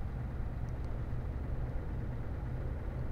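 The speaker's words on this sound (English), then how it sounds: "Truck doesn't sound too good." An old Scania truck engine drones low and steady in Euro Truck Simulator 2, a constant rumbling hum at moderate loudness with no voices over it.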